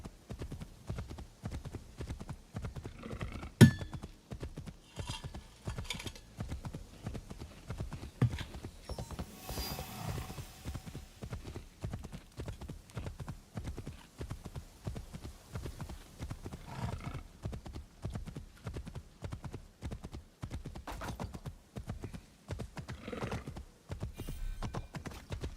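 Galloping horse hooves in the video game Assassin's Creed Shadows form a rapid, continuous clip-clop rhythm across the whole stretch, with an occasional brief whinny-like accent and no voices.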